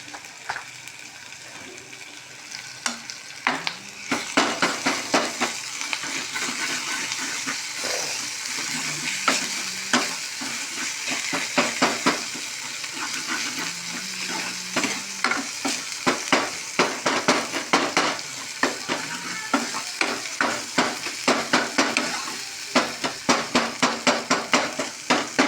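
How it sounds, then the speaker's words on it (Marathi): Homemade masala frying and being stirred in a pan for a rustic village-style brinjal curry, a soft sizzle beneath frequent clinks and scrapes of the spoon against the pan, close-up and without speech. "थोडा मसाला परतून घ्यायचा."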